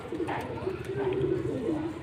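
A pigeon coos nearby in a soft, rolling, low-pitched call repeated in short throaty phrases, with someone talking over it.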